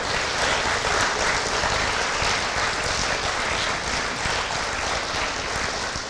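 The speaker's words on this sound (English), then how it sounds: "So kids, you're going to clap for your parents." Children at an eighth-grade graduation applaud their parents, a dense, steady wash of many hands clapping at once that stays loud and even throughout, with no talk over it.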